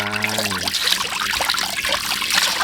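Water pouring into a cooking pot in a continuous splashing trickle, close and fairly loud, with a brief tonal hum at the very start.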